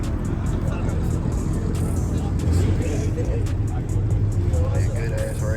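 A BMW X3 M and a BMW M340 racing, heard as a steady loud engine and road roar that holds throughout with slight swells, while people talk over it.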